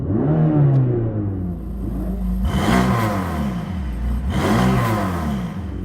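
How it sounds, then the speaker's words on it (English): Mercedes-AMG GT Black Series V8 exhaust revved with the flaps closed: a steady idle rumble rising into two strong throttle blips, each swelling and falling back, close and loud with no talk. "So here's revving with the flaps closed."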